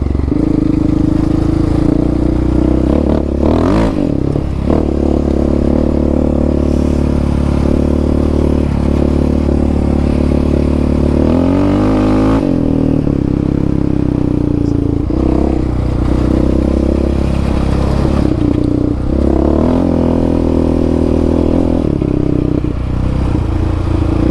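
Yamaha Raptor 700 ATV with a Dasa pipe and EHS tune being ridden: a loud, close, continuous engine drone that rises and falls with throttle changes, with rattles and clatter over the rough exhaust note.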